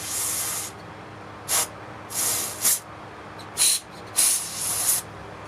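Several sharp bursts of aerosol spray hiss in short pulses of varying length through a Toro mower's carburetor jet over a steady background hiss, close up.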